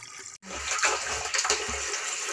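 Water gushes from a pipe in a new irrigation setup in a steady rushing stream after a momentary cutoff, splashing continuously at close range.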